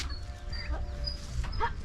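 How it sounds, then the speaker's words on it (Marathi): A young turkey chick gives a couple of short, high, rising chirps, close and fairly faint, over a low background murmur. "हे बघा टर्कीचा पिल्लू"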